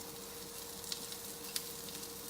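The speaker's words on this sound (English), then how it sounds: "Broccoli frying." A soft, steady sizzle of broccoli frying in a cast iron skillet, with a couple of small pops and faint stirring, quiet and close.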